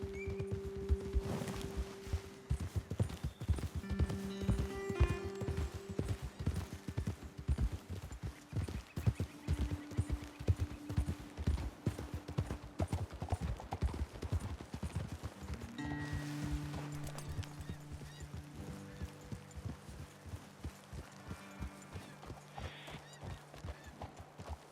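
Horse hooves clip-clop in a steady rhythm while riding on horseback in the video game Red Dead Redemption 2, with occasional whinnies and ambient game music underneath, no talk.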